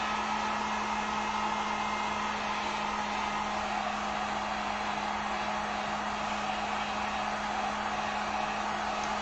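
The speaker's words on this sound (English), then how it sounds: "I'm just gonna blow dry these or heat dry these just real quick." Hair dryer heat-drying freshly painted wooden sign pieces: a steady, loud blowing whoosh with a constant motor whine, unbroken from start to finish with no talk.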